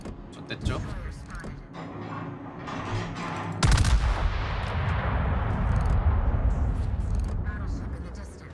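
Battleship main guns firing high-explosive shells in World of Warships, a sharp heavy boom near the midpoint followed by a long rumbling decay over earlier scattered distant gunfire and mechanical creaks, with speech partly underneath.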